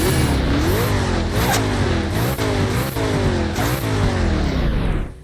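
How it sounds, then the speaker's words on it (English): A car engine in the Roblox game Midnight Chasers, driven in rain, revs loud and close, climbing through several gear shifts with brief dips between them, then cuts off sharply at the end. "let's try driving it in the rain"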